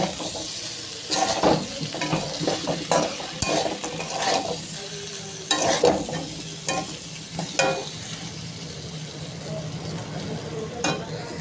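Potato and banana slices stir-fried with spices in a pan for a home lunch: a steady low sizzle broken by repeated sharp scraping and stirring strokes, fairly close, with no talk.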